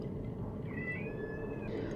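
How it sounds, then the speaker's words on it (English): A cat yowls outside a door, wanting canned food: one drawn-out, wavering meow, fairly faint and muffled, heard alone over a low background hum. "the cat that is screaming outside the door for me to give him canned food"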